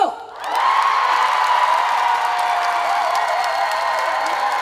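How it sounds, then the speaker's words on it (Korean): Concert crowd at an outdoor beach trot music festival erupting into loud cheering, whoops and applause, a sustained roar that stays strong and close throughout. "괜찮으면 함성과 박수!"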